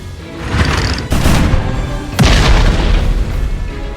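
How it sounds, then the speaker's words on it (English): Cannons fire in the Grand Kingdom video game, with two sharp, loud blasts about a second apart, each followed by a heavy booming rumble and crashing debris, and no voices. "We got cannon support!"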